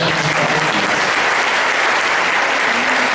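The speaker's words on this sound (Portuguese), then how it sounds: "Vamos dar um salve de palmas para os jovens." A large church youth gathering gives the young people a loud, dense round of applause from a crowd, a continuous wash of clapping that holds steady throughout.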